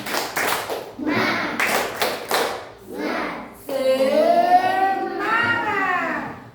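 A child and adult join in a rhythmic clapping chant, bursts of sharp claps in quick patterned groups alternating with sung or chanted voices, close and fairly loud.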